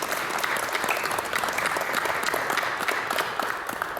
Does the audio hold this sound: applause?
yes